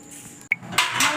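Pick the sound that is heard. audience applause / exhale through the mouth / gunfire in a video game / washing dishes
washing dishes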